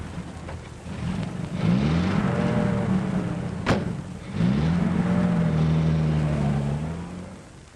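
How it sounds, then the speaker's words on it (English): A 1930s taxi cab pulls away and drives off, its engine rising in pitch as it accelerates, easing briefly, then revving up again, loud and close throughout, with no voices. "Follow that cab."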